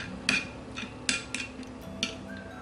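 A spoon clinks and taps against a bowl while jelly candy colour is mixed in a home kitchen, a few sharp, uneven knocks close by at moderate volume, with no talking.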